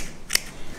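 A single quick snip of scissors cutting a horse's hair sounds crisply once, close and faint, against quiet surroundings.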